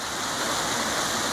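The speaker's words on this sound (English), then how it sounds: "my travels have taken me to this incredible waterfall" Niagara Falls roars in a constant, dense wash of falling water, loud and unbroken for the whole moment, with no voices over it.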